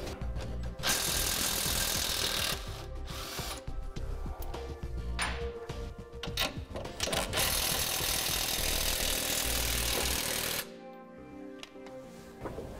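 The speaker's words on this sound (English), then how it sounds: "We're not going to remove it, but we are going to loosen it to make it easier to install our hitch." An impact wrench or ratchet loosens the tow hook bolt on a 2015 truck frame during a Curt front-mount hitch install, a loud, continuous mechanical rattle with bursts that stops abruptly near the end.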